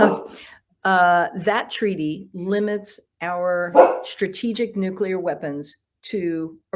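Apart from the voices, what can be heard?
dog barking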